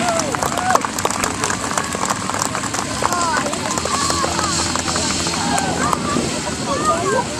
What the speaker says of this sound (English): how about we have a big round of applause for our pillion headstand